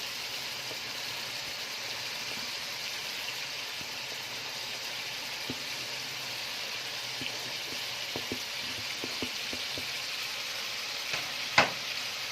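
Onions and peppers frying with garlic and Alexandrian sausage in a pan, sizzling steadily while being stirred, with scattered scrapes and clinks of the utensil growing more frequent toward the end and a sharper knock near the close.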